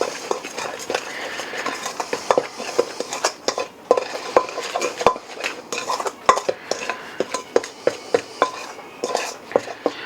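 Chicken wings tossed with cornstarch, salt, pepper and garlic in a bowl, with a close, busy stream of scraping and clinking utensil strokes against the dish in an irregular stirring rhythm.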